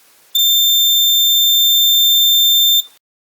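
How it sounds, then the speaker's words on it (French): A homemade infrared beam barrier alarm built around a photodiode sets off its buzzer, one loud, piercing, steady high tone lasting about two and a half seconds and then cutting out abruptly into silence. "et bien là, il y aurait déclenchement de l'alarme."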